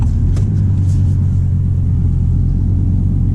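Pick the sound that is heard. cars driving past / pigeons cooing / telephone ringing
cars driving past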